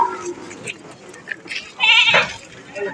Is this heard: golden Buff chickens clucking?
no